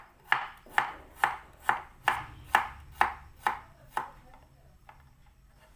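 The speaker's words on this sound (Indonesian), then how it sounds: "Ini aku gunakan 2 siung bawang merah diiris tipis, 2 siung bawang putih diiris tipis juga." A knife thinly slices shallots and garlic on a cutting board, about eleven crisp, evenly spaced chops close up that slow and fade near the end.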